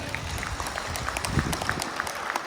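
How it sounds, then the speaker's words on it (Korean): Applause from park golf club members at the opening ceremony of an association chairman's cup at Dasa Park Golf Course; steady, moderately loud outdoor clapping with scattered sharper claps throughout. "이 박수 한번 치죠"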